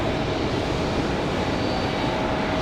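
Air Canada Airbus A320 airliner arriving at Raleigh-Durham airport on a windy day, a steady broadband engine roar filling the whole stretch without a break, loud and continuous with no talk.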